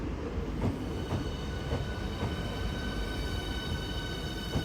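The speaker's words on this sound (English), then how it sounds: "This is of course the HS1, the High Speed 1 train service run by South Eastern Trains" A Class 395 high-speed train on High Speed 1 rumbles past steadily with a continuous roar and faint rhythmic clicks from the wheels, fairly close.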